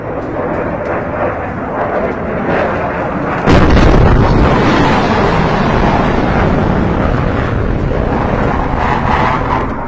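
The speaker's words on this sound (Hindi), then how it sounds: "यह आवाज फाइटर प्लेन के उड़ने और फिर बहुत तेज धमाके की आवाज की तरह सिमिलर थी" A fighter plane roaring overhead, then a very loud explosion boom over Jodhpur, Rajasthan. A steady roar holds for about three seconds before a sudden, loud burst that rumbles on for the rest of the clip.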